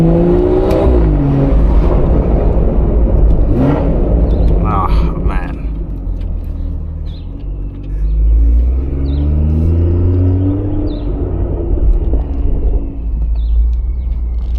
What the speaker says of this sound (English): So this car has a down pipe and mid pipe done, hence it sounds this good.